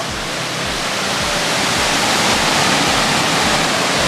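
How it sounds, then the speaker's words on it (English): A waterfall, one of many stepped falls along a stream, roars in a loud, close, unbroken rush of water. "This is just one of like 100 waterfalls."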